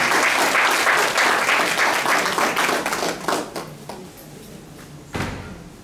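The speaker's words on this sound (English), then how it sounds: "Let's give him a round of applause also." A conference audience in a hotel in Accra applauds loudly, the thick burst of clapping thinning into scattered claps and fading away, with one last sharp clap near the end.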